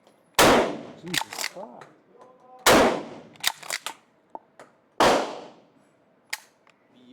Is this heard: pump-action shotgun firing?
yes